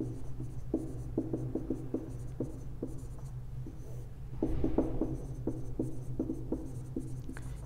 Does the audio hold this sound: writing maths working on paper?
yes